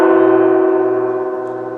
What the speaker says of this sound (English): Glenn, I'm going to ask you to ring our gong for the start of our yoga session